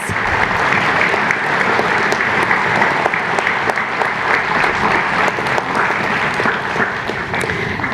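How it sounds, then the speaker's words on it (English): An audience at an elementary school assembly gives steady, even applause, many hands clapping together continuously at a moderate distance. "Please join me in giving them a round of applause."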